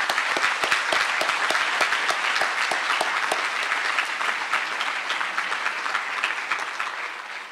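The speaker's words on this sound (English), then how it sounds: "Let's give them one more round of applause." A large audience applauds at a university commencement ceremony, sustained dense clapping that continues steadily and tapers slightly toward the end.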